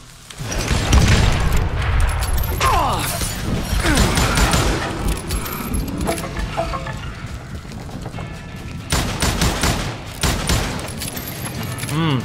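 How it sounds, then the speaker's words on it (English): Shotgun fire and other gunfire in the Wild West shooter Call of Juarez Gunslinger, from a ghostly foe with a double-barrel shotgun. Repeated loud booms and crashes come over dense game music and effects, with bursts near the middle and the end. "Robert Olinger appeared with his terrible double-barrel shotgun."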